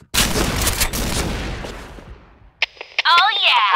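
Burst of gunfire in a Counter-Strike style shooter, a dense rattling volley for about two and a half seconds, then a short pause and a voice-radio reply with a crackly tone.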